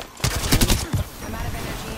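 Close, loud gunfire in a shooter video game comes as a rapid cluster of shots in the first second, then fades into a quieter tail.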